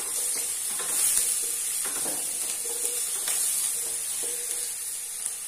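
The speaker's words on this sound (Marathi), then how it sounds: "कढीपत्त्याची पानं टाकते" Curry leaves hit hot oil for a Malvani chicken rassa and burst into a steady, close sizzle and hiss that runs throughout, with a few louder crackling spurts.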